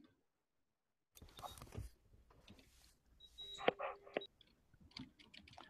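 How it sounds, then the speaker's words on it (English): Fingers type on a computer keyboard in a run of close, sharp clicks, with some faint rustling nearby. "I'm typing in the chat."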